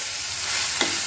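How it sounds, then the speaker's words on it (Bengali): Green pea paste with green chili is stirred in a frying pan over a steady hiss of sizzling, with one short scrape of the utensil against the pan near the end. "কড়াইশুঁটির কাইটাকে একটু নেড়ে চেড়ে নেবো"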